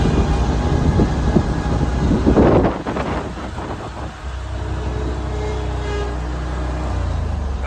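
A lawn mower engine runs steadily at low throttle during a residential mowing round, a continuous low drone with a brief louder, rougher burst midway before settling back to an even hum.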